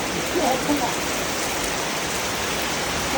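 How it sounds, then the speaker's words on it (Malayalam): Heavy rain pours steadily around a house in a broad, even hiss that stays constant throughout, with a few faint voices murmuring in the background. "നല്ല മഴ."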